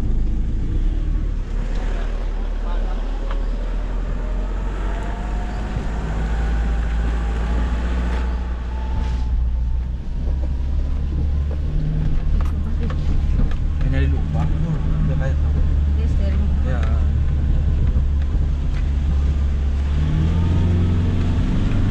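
A car engine labors and revs while stuck on a slippery hill road and being towed, a loud continuous drone with rising and falling pitch, with people talking throughout.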